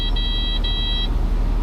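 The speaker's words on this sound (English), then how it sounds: "get a couple of beeps to let you know" A Kubota SVL75-3 compact track loader gives two short, bright electronic beeps back to back to confirm a maintenance reset, heard over a low steady machine hum.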